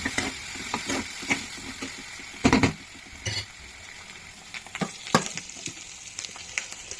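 Green chillies and turmeric fry on a high flame in a pan, a continuous close sizzle broken by irregular crackles and bursts of spatula stirring, with no one talking.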